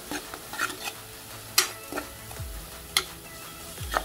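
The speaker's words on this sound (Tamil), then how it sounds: "ஒரு 2 நிமிஷம் பச்சை வாடை போகிற வரைக்கும் வதக்கிடலாம்." Tomato and chili powder are stirred and sautéed in a pan for a bitter gourd curd thokku, with a soft sizzle under repeated spoon scrapes and sharp taps against the pan, near and unaccompanied by speech.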